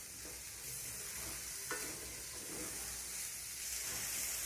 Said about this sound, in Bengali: পেঁয়াজটার সঙ্গে সব কিছু আবারও ভালো করে নাড়াচাড়া করে মিশিয়ে নিতে হবে